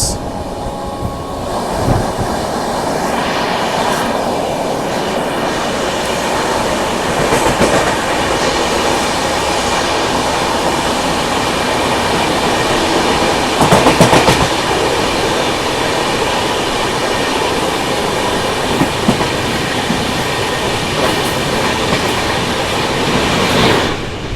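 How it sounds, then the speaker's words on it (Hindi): The Mumbai CSMT–Nagpur Duronto Express overtakes the Pune–Nagpur Garib Rath Express, heard as a loud, continuous roar of train wheels and rumbling coaches with clickety-clack rail joints and occasional louder clattering surges. "ओवरटेकिंग पुणे नागपुर गरीब रथ एक्सप्रेस।"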